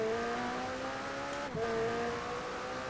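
A McLaren Speedtail in Forza Horizon 4 accelerates hard, its engine note a loud, steady rising drone with a brief dip around a gear change before climbing again.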